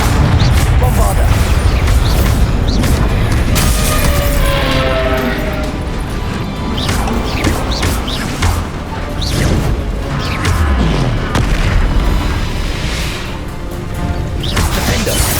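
Bombarda blasting spells explode in the PS5 game Hogwarts Legacy: a dense, loud barrage of booms, crashes and thuds that hit repeatedly in quick succession over a constant rumbling combat mix.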